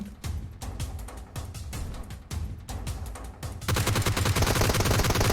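Gunfire in PUBG Mobile on a snow map, with rapid, sharp automatic bursts in quick succession at first, then turning into a dense, sustained volley of shots with no talk.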